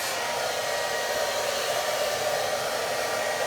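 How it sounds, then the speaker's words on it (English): A handheld hairdryer set to hot blows a loud, steady broadband rush of air that is close and continuous throughout, with no talking. "So with a hairdryer I'm going to get it on"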